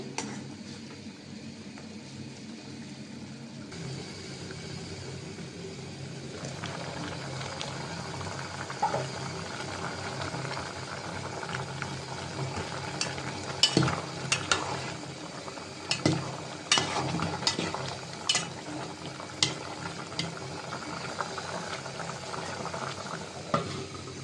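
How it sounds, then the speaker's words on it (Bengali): Spice paste with coriander powder and bay leaf is fried and stirred in a pan, ahead of cooking pangas fish. A low, steady bubbling sizzle runs throughout, with scraping stirs and utensil knocks growing busier toward the end. "মশলাটা খুব কষাই নেব তেজপাতাও দিয়ে দিলাম সাথে"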